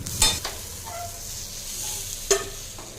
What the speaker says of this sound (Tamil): தக்காளி வெங்காயம் வதக்கிக்கலாங்க